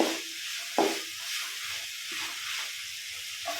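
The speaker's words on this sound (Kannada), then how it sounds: "ಇದು ಚೆನ್ನಾಗಿ ಫ್ರೈ ಆಗಬೇಕು" Onion, tomato and okra frying in a pan, a steady soft sizzle and hiss with a brief sharper crackle or stir near the start, close and fairly quiet, with no talking.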